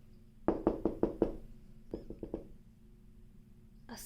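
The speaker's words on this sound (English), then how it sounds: "Peter knocked on the door." Knuckles rap on a wooden door, first five quick even knocks, then after a pause a looser group of four softer ones, all close and alone in a quiet room.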